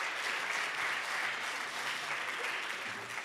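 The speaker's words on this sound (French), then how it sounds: "Bravo, merci Frédéric, on peut l'applaudir." An audience at a round-table conference session applauds a speaker, a dense, steady clapping that fills the room and fades slightly toward the end.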